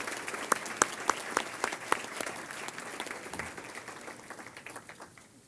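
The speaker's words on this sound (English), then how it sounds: "Please join me in offering these women a round of applause" An audience at the Athena Award ceremony applauds the women recipients, a round of scattered clapping with crisp individual claps that gradually thins and fades toward the end.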